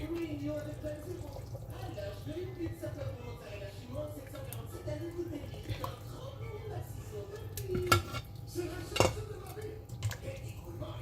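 Meat and potatoes are lifted out of a Tunisian tagine pot, with soft utensil scrapes and a couple of sharp metallic clinks near the end, close by and under a quiet voice.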